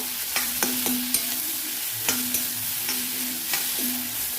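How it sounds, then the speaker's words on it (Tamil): Snake gourd seeds are stirred with onions frying in a pan for a chutney. A soft sizzle runs under repeated scraping spatula strokes that come in small clusters. "இதுவும் நல்லா வதங்கணும் ஆனியனோட"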